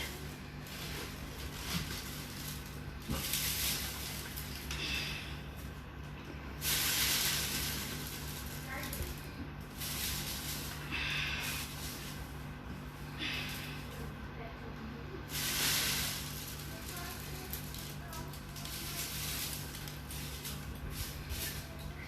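Water spraying and splashing while a compost bin for wet kitchen waste is washed off, a continuous hiss with several louder bursts as the stream hits the bin.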